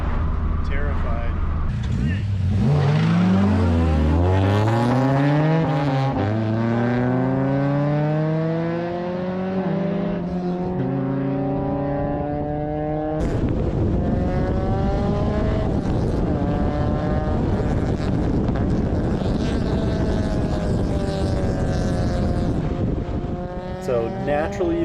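Engine roar rising and falling through gear changes as a first-generation Plymouth/Dodge Neon DOHC coupe speeds along at 100 km/h, sustained and loud, with a voice talking over it.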